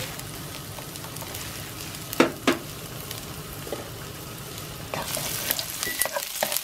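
Minced garlic sizzling and frying in olive oil, a steady crackling hiss with a couple of sharper stirring clacks near the start and livelier spitting toward the end.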